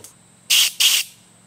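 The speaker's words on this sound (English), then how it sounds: "plug in your air compressor. And compressed air is loud." An air compressor blows compressed air over a greasy, dusty chainsaw in two loud, close hissing bursts, each about half a second long, with quiet in between.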